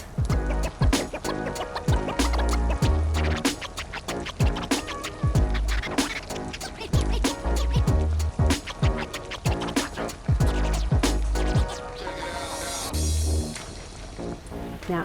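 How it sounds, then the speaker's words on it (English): Cooked linguine for spicy garlic bacon sauce tossed into a hot sizzling pan, with repeated sharp clattering scrapes and stirring sounds in a steady rhythm, close and loud, with a brief hiss near the end. "I'm going to get it straight into that sizzling sauce."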